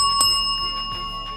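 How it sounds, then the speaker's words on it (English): A timekeeper sounds a single bright bell as a warning during a school debate round, a sharp metallic ring that hangs with a sustained tone for over a second. "On the 4th minute, you will hear 1 bell."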